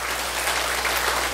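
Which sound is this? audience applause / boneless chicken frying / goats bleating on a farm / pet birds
audience applause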